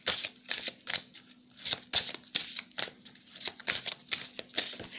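A deck of Murmures de Ganesh tarot cards shuffled by hand up close, with quick repeated riffling and slapping bursts in a steady rhythm, soft but crisp, with no talking over it.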